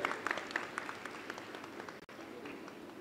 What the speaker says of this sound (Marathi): त्यांच्यासाठी टाळ्या वाजवूया.